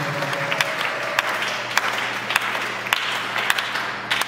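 An audience at a church convention applauds steadily in a large hall, a continuous wash of clapping with a few sharper claps standing out.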